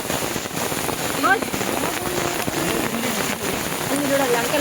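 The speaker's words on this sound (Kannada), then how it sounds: "ಜೋರ್ ಮಳೆ ಅದಮ್ಮಿ" Heavy rain falls at Chembra Peak in Wayanad, Kerala, as a dense, continuous hiss. People talk over the rain throughout.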